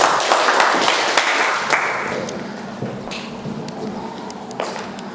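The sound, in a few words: class applauding a student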